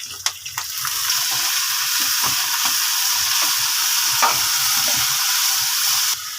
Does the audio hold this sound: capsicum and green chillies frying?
yes